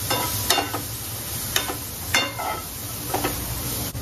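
Potatoes with spices cook in a pan on the stove, a steady close sizzle broken by several scraping stirs of a spoon.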